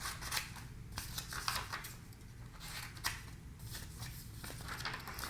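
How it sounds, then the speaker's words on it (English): Scissors snip repeatedly through paper cutouts for an abstract collage, a close, crisp series of irregular cuts and rustles over a low steady hum, with no talking. "just start cutting them up into smaller bits"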